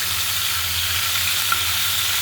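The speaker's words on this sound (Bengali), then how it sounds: "এই চুলায় দিয়ে দিলাম মাছের মাথাটা, হলো কাতলা মাছের মাথা। হালকা করে একটু ভেজে নিচ্ছি।" A catla fish head frying in a pan on the stove, a loud, steady, close sizzle with a low burner hum beneath, continuous and unbroken, with no voices.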